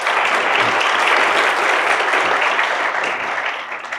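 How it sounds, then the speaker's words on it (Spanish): A seminar audience on sustainable urban mobility breaks into sustained applause, dense and even, fading slightly toward the end. "Pido para él, por favor, un aplauso."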